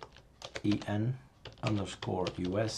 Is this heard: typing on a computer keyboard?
yes